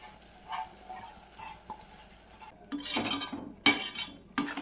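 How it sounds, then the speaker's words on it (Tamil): Tamarind water splashes into a hot pan, setting off a burst of sizzling and bubbling, with a few scrapes and clinks of a utensil. "புளியை ஊற்றிடலாம்"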